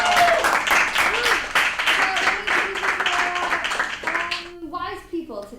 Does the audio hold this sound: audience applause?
yes